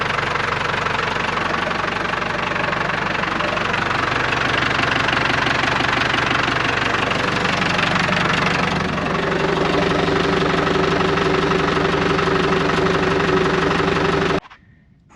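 An International 100C engine runs steadily after being reinstalled, a loud, continuous knocking idle with a slight shift in pitch partway through before it cuts off abruptly near the end.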